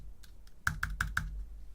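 Computer keyboard typing during a struggle to get a DJI Mic 2 connected: a few light taps, then four crisp, evenly spaced keystrokes close to the mic, with no speech.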